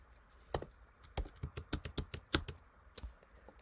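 Computer keyboard keys pressed in a quick series of sharp taps while entering tmux shortcut combinations, close and fairly loud against a quiet background.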